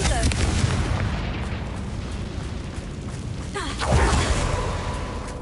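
In Hogwarts Legacy, a Confringo fire spell bursts in a spooky spider cave with booming, rumbling blasts, a dense roar followed by a second heavier impact near the end.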